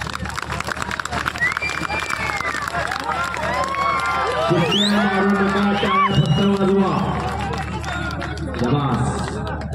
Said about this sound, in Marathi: दोघांसाठी टाळ्या